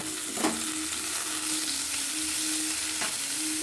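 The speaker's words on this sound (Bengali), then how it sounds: "পেস্তা দিয়ে একটু ভেজে নেব। একটু ভাজা ভাজা করে নেব।" Nuts and raisins with pistachio frying and being stirred in a pan, a steady close sizzle with a couple of brief scraping stirs, no talk.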